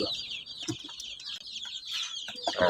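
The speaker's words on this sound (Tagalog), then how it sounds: "Mix na nga pala sila ng Rhode Island Red, Black Australorp, tsaka Isa Brown." Several weeks-old chicks of a Rhode Island Red, Black Australorp and Isa Brown mix peep steadily in a high chorus on a small farm, with a few louder nearby cheeps standing out over the constant chatter.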